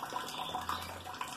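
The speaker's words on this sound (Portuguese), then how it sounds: "Aperta aqui já sai água, ó." Water spurting from a newly installed automatic drinker nipple as it is pressed, a steady splashing hiss with sputtering from air still in the line, close and continuous.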